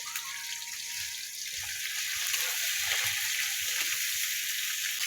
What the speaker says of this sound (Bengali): লবণ দিলাম, এই যে হলুদ দিলাম, এই যে হলুদ, এটা খালি ভাজবো